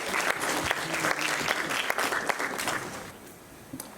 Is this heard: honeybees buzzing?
no